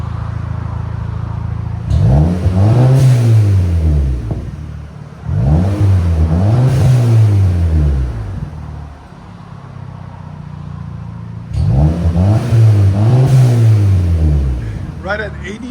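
A 2012 Audi TTS 2.0L turbo with stock exhaust and a Vibrant resonator revs hard in sport mode, three loud rising-and-falling rev bursts separated by idle, close to the exhaust.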